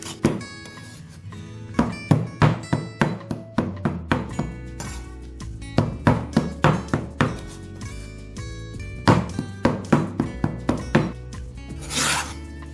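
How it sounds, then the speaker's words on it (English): A knife chopping chicken breast pieces on a cutting board: rapid bursts of close, sharp thunking strokes in irregular runs, with short gaps between runs. "Then cut the strips into pieces before mincing them"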